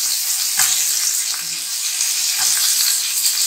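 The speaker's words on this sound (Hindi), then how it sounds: "धीमी धीमी आंच पर हमने ज़रा सा इसको फ्राई करना है दोनों साइड से" Matar kababs fry gently in a pan over a low flame, giving a steady soft sizzle with light crackles and a few faint clinks, close and without talk.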